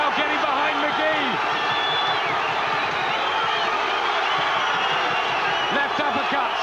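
Boxing crowd at a Belfast fight night roaring in support of a 29-year-old boxer, Magee, in a bout against Neary; a dense, steady wall of cheering and shouting with commentary voices running over it throughout.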